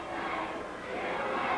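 Arena crowd at a 1985 Portland professional wrestling show yelling and jeering at a departing wrestler, a dense, restless mass of shouting voices, close and continuous over a brief moment.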